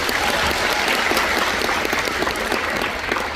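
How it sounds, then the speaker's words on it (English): A cinema audience at the UK premiere of Percy Jackson & The Olympians at the Odeon Luxe Leicester Square in London claps with hands only, a dense, loud, steady round of applause filling the whole stretch with no pause. "Now, just with your hands, no mouth, no feet, round of applause,"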